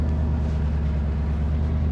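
Inside the cabin of a Ford Mustang fitted with a changed muffler, the exhaust is a steady, loud low drone with a rumbling snarl that holds even throughout.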